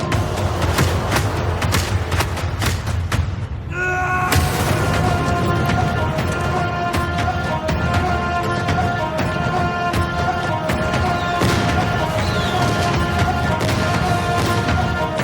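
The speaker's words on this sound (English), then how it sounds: "Fireworks." Fireworks in a film trailer explode in a rapid run of booms and crackling bursts, loud and dense, then a sharp blast followed by ringing tones and further scattered pops over a music bed.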